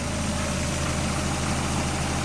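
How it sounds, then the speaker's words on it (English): A car engine idles steadily on thick oil, parked up on an angle after several minutes of running, giving a constant low rumble and hum with no breaks or changes, close and fairly loud. "Engine running so far."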